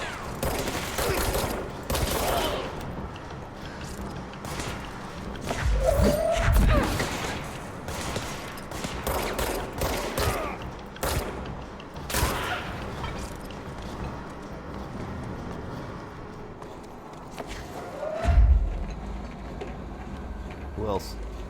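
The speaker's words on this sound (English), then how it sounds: "Yipes, the bullets." Gunfire in the video game Control, scattered bursts of shots through a continuous bed of game noise, with a louder burst near the middle and another toward the end, while a person talks over it.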